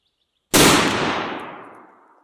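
A single sharp rifle shot from 5.56 M93 55-grain Winchester ball ammunition cracks out loud and close after a brief silence, its echo decaying over about a second and a half.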